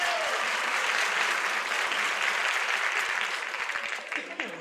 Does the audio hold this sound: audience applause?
yes